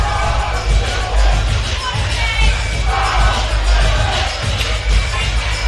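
Crowd at an MMA event cheering for the last fight of the evening: a steady, full roar of voices with scattered whoops, under a commentator's talk.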